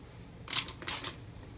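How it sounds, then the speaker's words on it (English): Two short hissing spritzes from a spray bottle onto a makeup brush, close by, the second slightly longer than the first. "Let me try spraying my brush"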